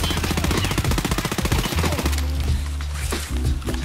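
Rapid automatic gunfire from Escape from Tarkov, a long sustained hip-fire burst of close, loud shots that breaks off into scattered single shots and echoing reports, with no talking over it.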